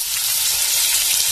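Food fries in a pan with a loud, continuous hissing sizzle, bright and even throughout, with a brief stirring clatter at the very end.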